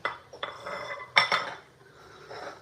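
Metal ladle scraping and clinking against a pot while spicy Thai beef soup made with fresh beef is served, a few distinct clanks and a brief scrape, close and alone.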